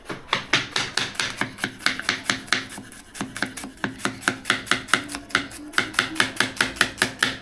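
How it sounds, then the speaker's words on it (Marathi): Knife finely chopping onion and tomato on a board for a bread omelette, a rapid steady train of close, crisp knife strikes with a brief pause partway through. "कांदा कापा, टमाटर कापा. एकदम बारीक कापतोय"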